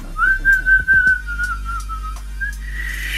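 A person attempts to whistle by inhaling, producing a thin, wavering tone that holds for about two seconds, close and fairly loud, with breathy noise and a faint second attempt after it.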